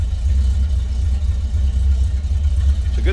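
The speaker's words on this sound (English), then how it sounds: "It's a good sounding 350, and again, that's paired up with an automatic transmission." 1970 Chevrolet C10 pickup with a 350 V8 and automatic transmission idling through turn-down exhaust tips, a steady deep rumble close by, loud and continuous without talking.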